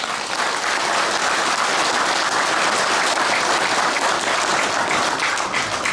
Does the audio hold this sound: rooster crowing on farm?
no